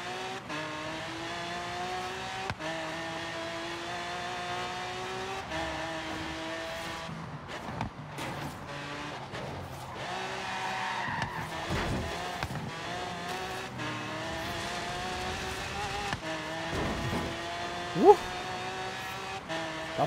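Yellow Camaro Z28 in a street race, engine droning and revving steadily with bursts of tire noise and a sharp spike near the end, heard at moderate distance with a busy background.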